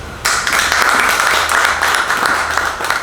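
A gathering at a New Jersey pastors' association general meeting applauds a newly elected president, with a burst of many hands clapping that starts suddenly and continues steadily and loudly to the end.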